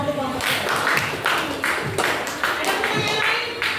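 A group of students claps together in a classroom, a run of fairly loud, close rhythmic hand claps, with voices mixed in.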